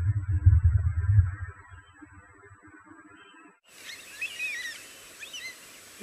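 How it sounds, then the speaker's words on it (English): Wild birds chirp and whistle outdoors near the ocean under a clear sky, a dense chorus of quick, high calls rising suddenly after a stretch of low rumbling background noise. "The birds are going wild."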